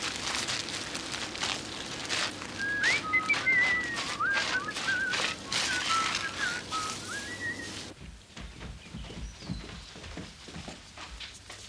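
A man whistles a wavering, warbling tune up close for several seconds before it breaks off abruptly, leaving a quieter background with faint shuffling.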